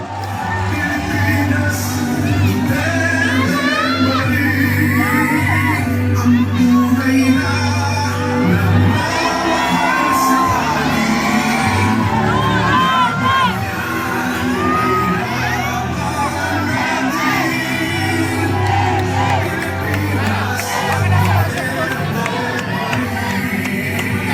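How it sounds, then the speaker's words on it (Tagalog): A large crowd cheers, whoops and shouts continuously for Vice President Sara Duterte at a public event, dense and loud throughout, with a steady low droning tone underneath. "Muli palakpak po natin Vice President Sara C. Duterte."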